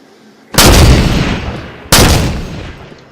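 Gunshots in Halo 5, two loud, sharp blasts about a second and a half apart, each with a long decaying tail and a third starting at the very end.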